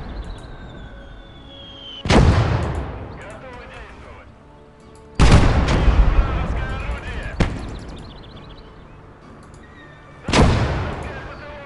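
Mortar and artillery fire in the World War II strategy game Gates of Hell: Red Star Rising, with three heavy booming blasts at a few-second intervals, each rolling off into a long rumble, plus a sharper crack between them over a low battlefield din.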